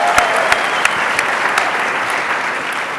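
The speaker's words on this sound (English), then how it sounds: "Please give him a huge round of applause." Steady applause from an audience, dense clapping throughout with a few sharper individual claps standing out.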